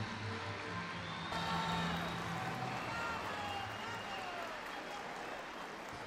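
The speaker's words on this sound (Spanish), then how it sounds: "Despedimos al cuarto año de que nos presentó nuestro baile nacional con un fuerte aplauso." Parents and school audience applaud after a children's national folk dance performance at a school folklore festival, a continuous wash of clapping heard from a distance and fairly faint, with some crowd murmur.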